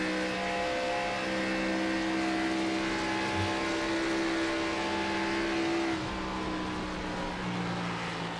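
A Chevy stock car engine in an iRacing Xfinity Series race at Las Vegas holds a steady, loud drone at speed, with a slight change in tone around two-thirds of the way through.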